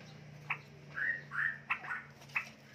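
Young straw-headed bulbuls (cucak rowo) give short sharp chips and a couple of rising whistled calls, faint and intermittent over a steady low hum.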